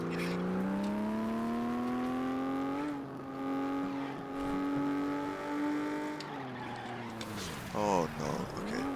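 Engines in the racing game FlatOut drone and rev in rising harmonic sweeps that break off at each gear change and climb again, loud and continuous, ending in a wavering, skidding whine.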